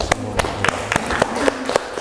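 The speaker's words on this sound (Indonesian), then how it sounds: "Ya, kalau ndak tepuk tangan untuk kita." A classroom of students claps for a group, a loose, uneven patter of hand claps spread over a couple of seconds, fairly close and without talk.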